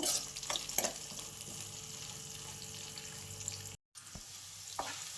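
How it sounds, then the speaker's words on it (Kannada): Crushed garlic fries with green chillies in a pan, giving a steady, close hiss of sizzling oil with occasional stirring scrapes and a momentary break near the end, and no voices. "ಜಜ್ಜಿಟ್ಕೊಂಡಿರುವಂತಹ ಬೆಳ್ಳುಳ್ಳಿಯನ್ನು ಹಾಕ್ಕೊಳ್ತಾ ಇದ್ದೇನೆ ಬೆಳ್ಳುಳ್ಳಿ ಹಸಿ ವಾಸನೆ ಹೋಗೋ ತನಕ ಸ್ವಲ್ಪ ಫ್ರೈ ಮಾಡ್ಕೊಳ್ಬೇಕು"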